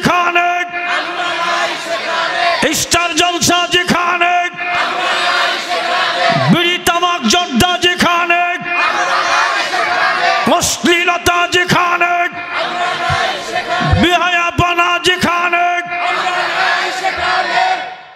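A large crowd at a Bangladeshi Islamic waz gathering roars a takbir chant in repeated loud surges, the shouts rising and falling together across the whole stretch.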